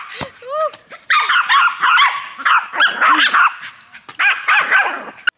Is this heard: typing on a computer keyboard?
no